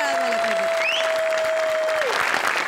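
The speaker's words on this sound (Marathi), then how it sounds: "अरुण दादांसाठी एकदा प्लीज जोरदार टाळ्या झाल्या पाहिजे" A studio audience applauds at a Marathi comedy show, a steady wash of clapping with a sustained tone and a short whistle-like sweep running over it.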